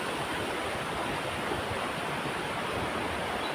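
A rain-fed river in the Konkan countryside runs full, giving a steady broadband rush of flowing water that stays constant and close throughout, with no talking.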